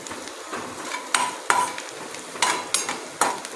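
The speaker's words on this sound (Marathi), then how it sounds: "चांगलं परतून घेऊया।" Chopped onions and green chilies sauté in a pan for upma, with a spoon scraping and tapping against the pan in irregular strokes over a soft sizzle, close and clear with no talking.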